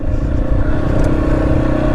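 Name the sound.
Yamaha XT250 motorcycle riding off-road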